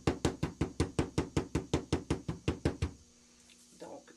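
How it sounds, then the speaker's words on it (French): A Stampin' Up rubber stamp tapping onto paper, about fourteen quick, evenly spaced sharp taps close up, stopping abruptly, followed by a brief faint rustle. "On étampe. Et on tapote."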